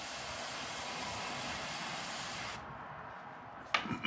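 An airbrush sprays brown paint onto a micro bluegill fishing lure as a steady, close hiss, which cuts off partway through before a brief burst of handling noise.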